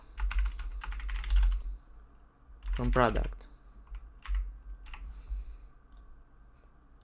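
Keys clatter on a computer keyboard as a MySQL database query is typed, in quick bursts of close clicking with pauses between them, and a voice briefly speaks in the middle.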